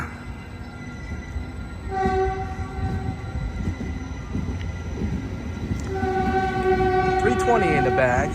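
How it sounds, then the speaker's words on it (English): Caltrain Stadler EMU electric train at Redwood City station, a steady rumble with tonal whine and horn-like tones that swell as the train gets louder toward the end, fairly close. "This is Caltrain 413 to San Francisco at Redwood City Station. That's a Stellar EMU electric train."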